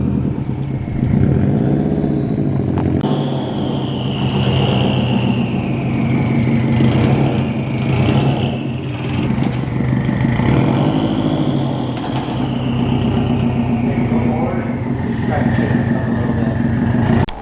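A stock-exhaust Subaru WRX engine revs and drones loudly and continuously with a rough, throaty exhaust rumble, the pitch rising and falling steadily throughout.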